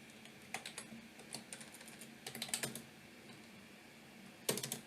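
Keystrokes on a computer keyboard while entering a password at a Linux terminal: scattered quiet clicks in short bursts, with a sharper cluster near the end, close by and alone.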